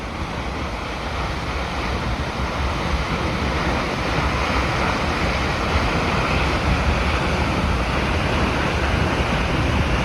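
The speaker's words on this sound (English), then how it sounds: "You can hear the thunder of that waterfall." Vernal Falls in Yosemite in winter roars as a steady, broad rush of falling water, loud and unbroken throughout, with no voices.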